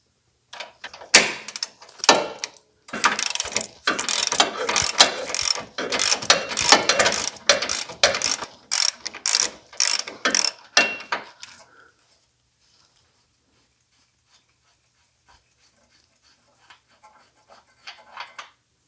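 A ratchet turning a 24mm hex special tool during a BMW electric power steering repair, a run of quick clicking ratchet strokes in bursts for about eleven seconds, then near silence with a few faint ticks at the end.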